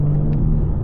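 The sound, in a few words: BMW G80 turbo intake noise heard inside car, windows up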